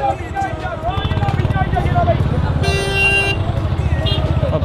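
In a Delhi traffic jam, a long car horn blast cuts through a dense bed of idling engines and road noise, with a few shorter toots around it and someone talking throughout.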